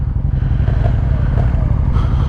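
A Suzuki SV650S V-twin motorcycle from 1999 to 2002 pulls hard under power, a loud, close, deep throbbing engine note rising steadily with some rattle and road noise.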